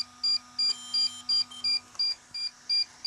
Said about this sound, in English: So you've got flashing blue, okay, and very loud annoying bleeping.